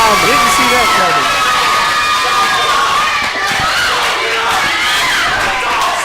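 A wrestling event crowd at ProSouth Wrestling roars and cheers continuously, shouts and whistles rising over the din with a commentator talking underneath.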